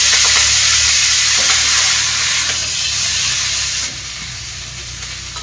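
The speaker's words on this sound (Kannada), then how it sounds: "ಅದನ್ನ ಫ್ರೈ ಮಾಡ್ಕೊತೀನಿ ನೋಡ್ರಿ ಎಣ್ಣೆ ಒಳಗೆ" Fenugreek leaves fry in oil for a village-style palya: a loud, continuous hiss and sizzle close by, easing slightly toward the end.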